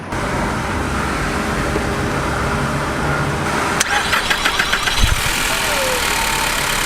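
A rental car engine cranks and struggles to catch, a rough continuous churn that breaks into a burst of uneven knocking and sputtering pulses near the end, fairly loud and close.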